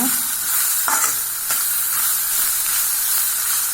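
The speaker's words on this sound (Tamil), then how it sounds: "இன்னொரு ஸ்பூனு நெய் ஊற்றிடலாம். இப்போ நல்லா வதங்கிட்டுங்க. முட்டையை வந்து இதில் போட்டாச்சுங்க." Egg frying in ghee among sautéed vegetables for egg fried rice, a steady close sizzle and hiss throughout with a few soft stirring scrapes, no talking.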